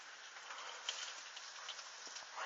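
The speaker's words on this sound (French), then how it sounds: "Voilà cette forte pluie là qui se bat." Heavy rain pours down in Tour-en-Sologne during an April 2014 downpour, a steady dense hiss with occasional sharper drop impacts, continuous and fairly distant, with no talk.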